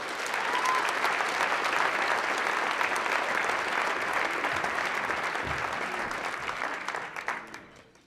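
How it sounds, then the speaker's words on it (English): A large audience gives sustained, dense applause for young candidates at a ceremony, a steady wash of many clapping hands that holds strongly for several seconds before fading out at the end. "Could we give them one more round of applause?"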